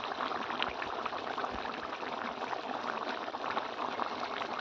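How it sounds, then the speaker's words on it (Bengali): Water poured lightly over ground mustard in a pan while preparing hilsa fish curry with eggplant, a steady broadband wash of liquid hiss and bubbling that runs unbroken throughout, close and fairly even, with no talking. "এবার হালকা একটু জল দিয়ে লাগিয়ে নেওয়া হবে"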